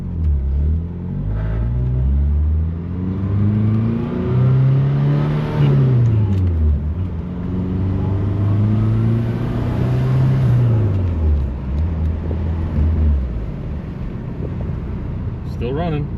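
A rare old sports car, left parked for 35 years, runs while driving, its engine rising and falling through two long rev swells before settling to a steady rumble.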